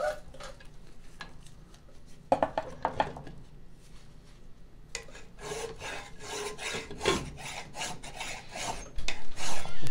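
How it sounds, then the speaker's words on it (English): Rasping metal filing strokes on a differential chain case being taken apart, coming in irregular bursts of scraping with short pauses, close and fairly loud, no talking. "Nope, more filing."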